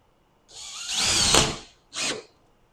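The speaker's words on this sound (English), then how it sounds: "I'm screwing these boards down so they don't move when I do the pickets." A power drill drives screws into wooden fence boards for a picket fence: one sustained whirring run of about a second, then a short second burst, close and loud with no speech.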